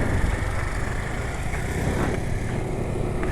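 A motorcycle engine running on racing oil idles close by with a steady, even rumble and a fairly smooth, continuous tone, with no one speaking.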